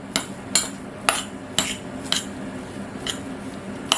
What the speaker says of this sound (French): il faut bien mélanger